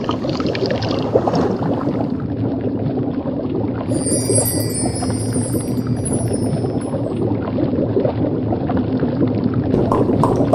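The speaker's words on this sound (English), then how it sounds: "I'll just pour the finished potion into one of these vials." A finished potion poured into a vial in The Longest Journey, a steady bubbling, gurgling liquid stream that runs loud and continuous, with a bright glassy trickle rising partway through.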